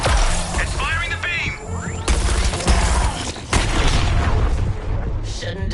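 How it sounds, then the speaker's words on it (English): An incoming artillery shell detonates in the Suicide Squad video game, with heavy booms and crashing impacts amid chaotic combat noise, while voices speak over the action. "Artillery shell incoming!"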